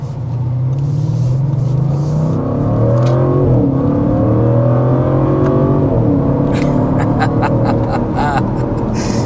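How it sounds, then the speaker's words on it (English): A 2025 Audi RS6 Avant accelerates at partial throttle, its engine heard from inside as a loud, rising rumble that drops briefly at gear changes and then climbs again. "That was just like a partial throttle acceleration, but just enjoying the sound"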